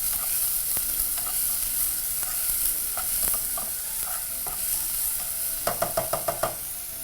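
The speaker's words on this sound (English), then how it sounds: "Now proceed to grab a spoon and begin to toss your onions in your pot." Onions sizzle in oil in a pot for a beef casserole while a spoon stirs them, a continuous close hiss with scattered scrapes and a quick burst of rapid clinking taps near the end.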